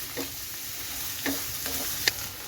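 Onions sauté with a pinch of salt in a pan for a Kerala-style tinned tuna dish, giving a quiet, steady sizzle with a few soft stirring knocks and one sharp clink.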